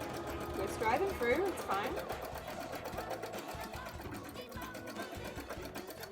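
A sewing machine stitches a bra near its center, a quiet rapid mechanical whir running steadily in the background while a person talks over it throughout.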